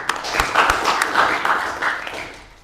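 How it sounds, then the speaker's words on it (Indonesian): A classroom of students claps for a classmate's answer, a lively patter of many hands lasting a couple of seconds and then thinning out, with a few voices mixed in. "kasih aplaus dong buat temennya"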